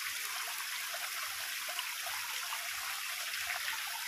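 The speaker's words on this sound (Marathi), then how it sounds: "इथे मध्ये असा छोटा धबधबा लागला आम्हाला आणि खूप छान आहे धबधबा," A small waterfall along the Torna Fort trek near Velhe, Pune, gives a steady, even rush of falling water, close and continuous with no voices.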